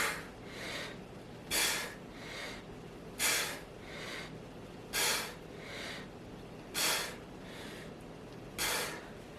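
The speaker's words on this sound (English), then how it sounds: "So breathe in and then exhale." Heavy breathing during a rotating chest exercise: six loud, sharp breaths arrive at a steady pace about every 1.7 seconds, each followed by a softer breath, close to the mic with no talking.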